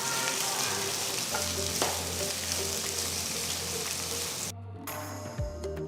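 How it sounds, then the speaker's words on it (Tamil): Loud, steady sizzling of onions and green chilies frying in hot oil, dense and continuous, with a brief lull near the end before the sizzle resumes. "நறுக்கின ரெண்டு வெங்காயம் கீர்ந்த மூணு பச்சை மிளகாய் சேர்த்து நல்லா வதக்குங்க"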